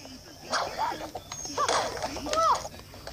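A boxer dog gives several short yips and barks over a busy, noisy background, with a person talking at the same time.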